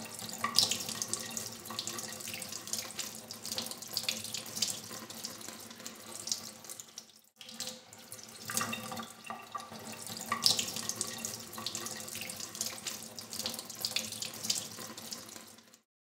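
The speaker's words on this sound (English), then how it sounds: "Once you've finished, you'll want to rinse it with cold water." Cold tap water runs steadily over a silk tie being rinsed in a sink, a continuous splashing stream with a brief pause midway before it resumes.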